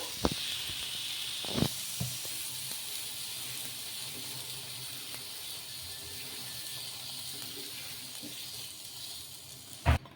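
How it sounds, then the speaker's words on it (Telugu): A dosa of sago and green gram batter roasts on a hot pan, giving a steady soft hiss and sizzle throughout with a few faint clicks, heard alone at close range. "ఇలా రెండు వైపులా కాల్చుకొని దోశ అనేది తీసేసుకోవడమే"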